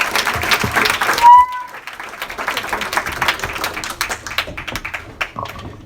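A church congregation at a pastor appreciation service breaks into applause, a dense burst of claps mixed with a brief tone and some voices, then settles into scattered clapping and taps.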